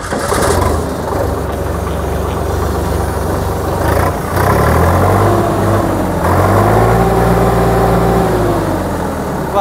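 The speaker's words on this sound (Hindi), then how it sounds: "अब आप लोगों को इस ट्रैक्टर का मैं साउंड सुनवाता हूँ, आवाज़ वगैरह देखना ट्रैक्टर की कैसी है। तो स्टार्ट करता हूँ।" A new 58 HP tractor engine starts and settles into a steady idle. Its low, throbbing diesel drone runs close and loud and unbroken through the whole stretch, with no voices.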